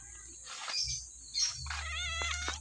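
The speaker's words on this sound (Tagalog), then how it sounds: "Daming pusa dito." Several cats meow and yowl in short, wavering cries, one after another, fairly close, with a low steady hum underneath.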